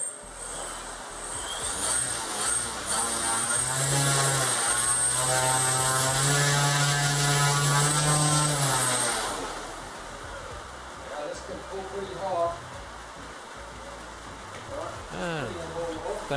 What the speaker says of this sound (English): The throttle is enabled, so we'll now do a power up.